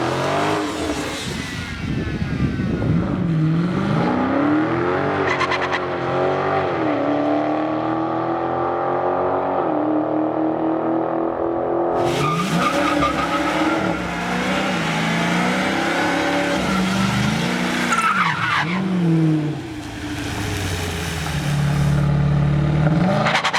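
A Dodge Challenger R/T Scat Pack 1320 with its Hemi V8 roars at a drag strip, revving hard through rising gear pulls and shifts, loud and close, with a brief lull before another full-throttle run.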